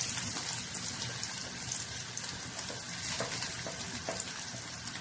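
Onion, shallots, garlic and ginger sautéing in a pan over crushed cloves and cinnamon for an egg curry make a loud, continuous broadband hiss, with soft utensil ticks scattered through and no talking.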